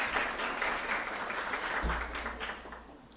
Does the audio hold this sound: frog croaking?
no